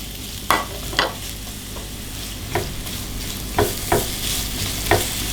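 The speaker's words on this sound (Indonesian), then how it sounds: "Di sini bawang putih dan bawang bombay ditumis dulu." Garlic and onion sauté in a small amount of hot frying oil, a steady close sizzle broken by irregular knocks and scrapes of a spatula stirring against the pan.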